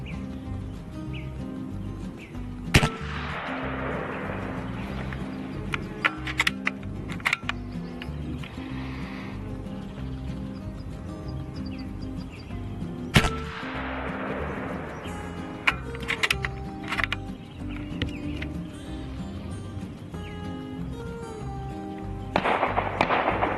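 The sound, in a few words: shots from a .30 caliber PCP airgun at the range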